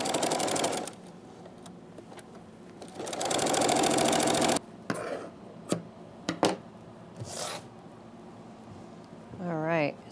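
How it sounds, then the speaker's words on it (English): A sewing machine stitches fabric for a toddler poncho in bursts, running steadily for about a second, then again for a longer stretch, with short pauses, handling clicks and a voice talking near the end. "I can just keep on stitching."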